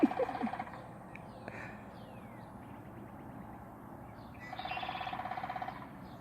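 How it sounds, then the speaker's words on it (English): A woodpecker drums on a metal satellite dish, giving two quick rattling bursts, one at the start and another a few seconds later, over quiet outdoor background. "the confused woodpeckers around here beating on somebody's satellite dish"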